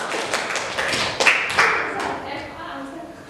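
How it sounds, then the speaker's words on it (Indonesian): A brief burst of clapping from a classroom group after a group presentation, scattered hand claps with some taps, while voices murmur in the background. "Ya, tepuk tangan dulu untuk kelompok"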